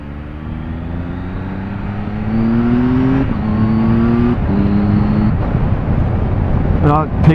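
A 2018 Triumph Tiger 1200XCA motorcycle accelerates hard on a road ride, its engine note climbing steadily through quick-shifted gears with rising harmonics, loud and close, with wind noise and a rider talking over it.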